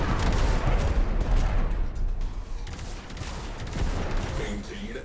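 Ship guns on a Railjack in Warframe fire at enemy fighters, a dense continuous barrage of rapid shots and booms filling the whole stretch, loud and close, with voices in the mix.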